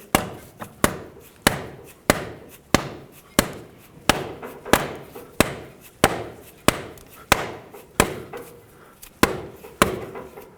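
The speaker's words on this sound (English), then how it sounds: "At this point I'm going to take a large rubber mallet and tap it in." A large rubber mallet taps a front CV axle onto the transmission output shaft of a 2007-2009 Saturn Aura, about sixteen evenly spaced, dull knocks struck at a steady rhythm, close up with no talking.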